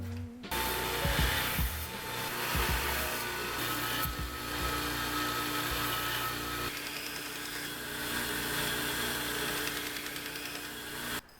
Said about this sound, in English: So I got the knife rough ground on the 50 grit belt